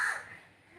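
A single short crow caw rings out close by, brief and fairly faint, with no talk over it.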